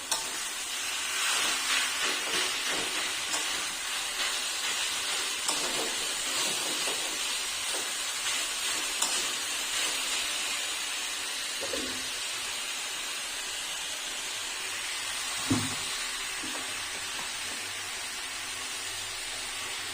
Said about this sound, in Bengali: কুচিয়ে রাখা বিট গাজর। দিয়ে একটু কষাবো।